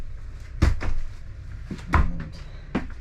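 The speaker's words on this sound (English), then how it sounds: "Close cupboards and secure loose items." Caravan cupboard doors are shut one after another with three sharp knocks close by, a short pause between each, and no voices.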